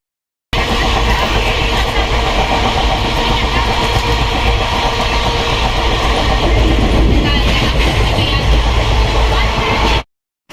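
A passenger train rumbles loudly and continuously along the rails, heard from on board, with a rhythmic clatter of the carriages close by.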